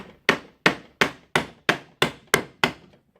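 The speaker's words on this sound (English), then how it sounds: "Okay, I will hit with the hammer." A hammer strikes metal eight times at an even pace to knock a part out of a disassembled Hitachi G23MRU 230 mm angle grinder, each blow sharp and close with a short ringing decay.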